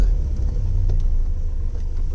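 A 1970 Lancia Fulvia Berlina saloon out on a test drive gives a steady low engine and road rumble from inside the car, continuous and moderately loud with no talking.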